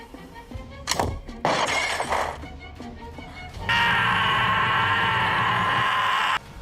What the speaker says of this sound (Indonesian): tembakan itu akan menyebabkan botol itu pecah